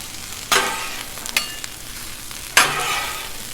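Onions fry on a hot Blackstone griddle for a Philly cheesesteak quesadilla, a steady sizzle punctuated by two sharp bursts as they are tossed and spread with a spatula, close and fairly loud, without speech.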